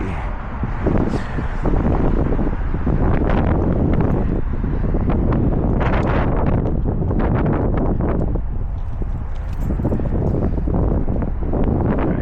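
Strong wind buffets the outside of a motel building in Anchorage, a loud, continuous roar with gusty surges and microphone rumble throughout.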